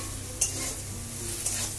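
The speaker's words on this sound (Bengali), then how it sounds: "সয়াবিনটাকে আমি ভালো করে ভেজে নেব।" Soybean chunks fry in a pan with a little salt and turmeric, giving a steady low sizzle with a couple of sharp scraping strokes of a spatula against the pan, close and alone.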